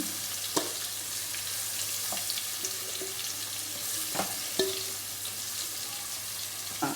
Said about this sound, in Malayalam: അപ്പോഴത്തേന് നമുക്ക് ചിക്കൻ പൊരിച്ചെടുക്കാം